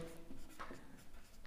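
Pen scratching across paper while a maths solution for a class 10 NCERT exercise is written out, brief soft strokes close by against a steady background hum.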